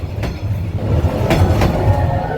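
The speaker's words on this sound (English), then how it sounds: "there's a train behind me. This is how close I am to the train right now. I noticed this train is going fast." A fast train rushes past very close by in Vietnam, a loud rumbling roar with rhythmic wheel clatter and sharp clacks as the cars go by.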